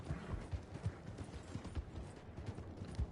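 Horse hooves clip-clop steadily in Red Dead Redemption 2 Online around Saint Denis, a continuous run of close, rhythmic thuds with no talking.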